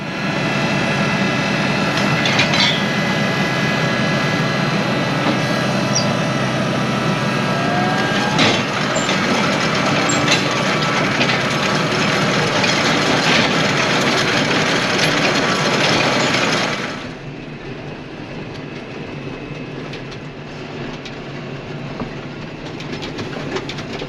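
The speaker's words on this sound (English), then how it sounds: "I'm gonna spend most of my day sitting in this tractor, driving in circles 10 feet at a time" A farm tractor running at about 2,000 RPM and 6 mph while working a field, a loud continuous rumbling drone up close that drops to a quieter, duller level near the end, no talk.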